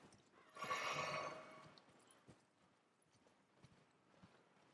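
Horse hooves clip-clop in the video game Elden Ring, a brief louder burst of trotting early on, then sparse faint hoof taps trailing off, quiet overall with no talk.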